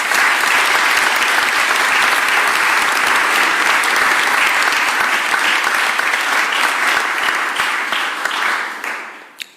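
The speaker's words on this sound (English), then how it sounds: "Let's give them a round of applause." A large gathering applauds city volunteers and contractors after a strike in Philadelphia, sustained heavy clapping holding steady for several seconds before thinning out and fading near the end with a last lone clap.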